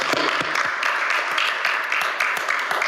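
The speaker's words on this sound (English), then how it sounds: "Let's give him a round of applause." An audience at a Little Rock city board meeting gives a round of applause, steady clapping with distinct sharp claps that carry on at an even level.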